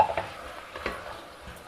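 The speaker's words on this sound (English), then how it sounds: "Stir fry the masala paste also with the vegetables for about a minute." Masala paste and vegetables stir-fried in a pan, with a steady sizzle under scraping spoon strokes that stir the mixture, close and continuous with no talking.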